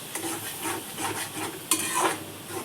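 Onions and spice masala fry in a pan for a village-style green pea kofta curry, giving a short burst of close sizzling and crackling under repeated stirring and scraping strokes, with no voices.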